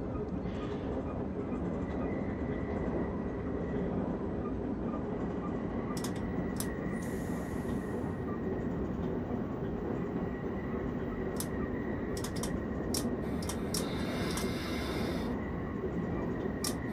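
A simulated Berlin S-Bahn train on the S25 line in Train Simulator 2021, a steady loud rumble of wheels and motors throughout, with several short high metallic squeals and hisses partway through.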